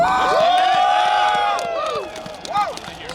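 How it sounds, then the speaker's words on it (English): An audience at a gun-rights lobby day rally cheers and whoops, rising voices and shouts riding over crowd noise, loud at first and then tapering to scattered calls. "Let's have a round of applause for Stephen Williford."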